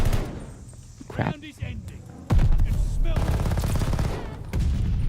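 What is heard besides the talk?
PPSh submachine gun firing in a video game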